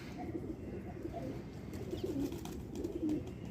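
Wild pigeons on a house rooftop give soft, low coos, repeated in short bursts over a steady background murmur, fairly faint and at middle distance.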